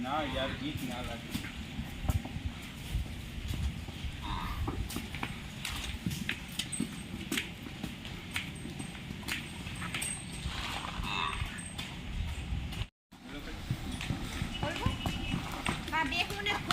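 Steady clip-clop of horse hooves on a hard surface throughout, with people talking over it and a brief dropout near the end.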